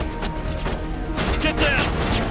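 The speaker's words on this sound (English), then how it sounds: "Grenades." Grenade blasts and combat noise from the Mass Effect video game during a Terra Nova mission, several dense bursts and crashes packed close together under a continuous din, with speech mixed in.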